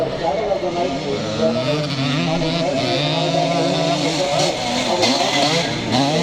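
A 250 Husqvarna twin-shock classic scramble motorcycle, an old Swedish machine, climbs a hill during a charity race, its engine droning steadily and loudly throughout with a commentator talking over it.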